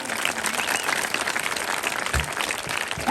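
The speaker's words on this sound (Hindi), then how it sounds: "जरा तालियां बजा के फिर एक दफा बताएं ना भाई" Dense, steady crowd applause fills an outdoor political rally in the Aalu Mahar union council, loud and continuous from start to end, with a few low thumps near the close.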